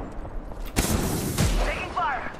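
Gunfire in Apex Legends, a few sharp shots and bursts crackling over game sounds in a short, busy exchange.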